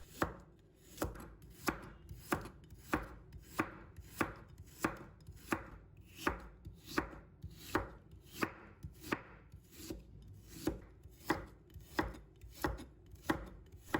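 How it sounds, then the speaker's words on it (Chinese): A knife chops tender young ginger on a board in a steady run of crisp, evenly spaced thuds, close and clear, about one to two strikes per second and no voices. "切到后面时候，它很生硬，听得出来很嫩，也好切。"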